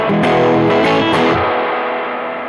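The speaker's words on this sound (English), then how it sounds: "You hear that crunchy, nice analog distortion, right?" Crunchy overdriven electric guitar strums a few chords through a tube amp with a Bugera PS1 attenuator, then a sustained chord rings out and slowly fades.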